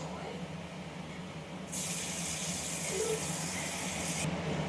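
Mochar dhoka, banana flower cakes, fry in hot oil. After a low background hum, a bright, loud sizzle bursts in and hisses steadily for a few seconds before cutting off.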